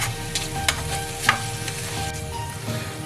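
Pork meat cooking in a pan for ginataang laing gives a steady close sizzle with a couple of sharp clicks from utensils or the lid, continuous and without any voices.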